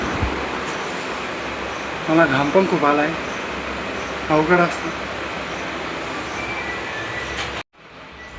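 Inside a moving passenger train, a steady rumble and hum of the carriage runs throughout, with someone talking in two short bursts near the mic, before a sudden cut near the end.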